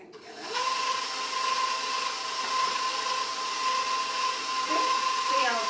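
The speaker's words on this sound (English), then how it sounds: "Not really serious whisking, just mixing together." Ingredients are lightly mixed together by hand, a steady whirring swish with a faint high whine throughout, close and continuous for several seconds.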